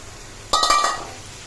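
Potatoes go into a pan of spiced achari coal-style kosha curry, making one bright metallic clink that rings briefly and fades within about half a second, close by and otherwise quiet.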